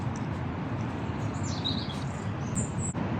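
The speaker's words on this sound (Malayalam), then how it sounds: "കിളികളുടെ സൗണ്ട് അല്ലേ? കിളികളുടെ സൗണ്ട്." Birds chirp in a magnolia garden in Southampton, faint high calls and short trills scattered over a steady outdoor background hum.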